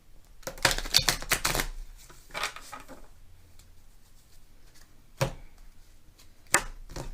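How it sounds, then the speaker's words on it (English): Quick bursts of shuffling tarot cards, a riffle of rapid flicks followed by a couple of sharp, isolated snaps as cards are cut and set down. "we're going to shuffle up and cut and find some cards for you"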